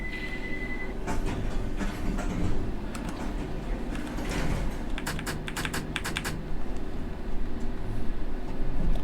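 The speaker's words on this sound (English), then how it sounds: "This train is ready to depart." A London Underground train pulls away on a rainy run in the World of Subways 3 game, a steady low rumble with bursts of clicking and rattling mechanism noise, no talking.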